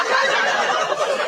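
A turkey gobbles in one brief, loud, raspy burst heard up close.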